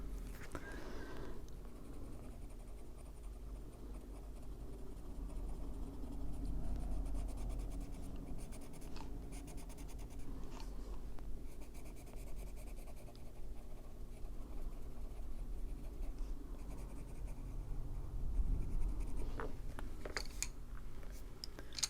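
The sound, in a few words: white Kalour colored pencil drawing on paper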